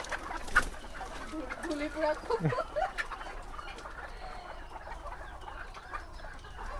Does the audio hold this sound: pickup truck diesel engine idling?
no